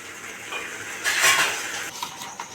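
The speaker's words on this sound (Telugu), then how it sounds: "మూత పెట్టి మగ్గనిద్దాం" A metal lid settles onto a pot of paneer biryani masala with garlic and cashew paste, giving a short, close clatter of cookware with light scraping around it and no voices.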